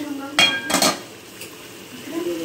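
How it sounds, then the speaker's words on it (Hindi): A metal spoon stirs aloo keema in a pot, making two bright close clanks against the metal, followed by a faint gentle sizzle and a soft voice in the background. "इसको मैं ज़रा चम्मच हिलाती हूँ उसमें"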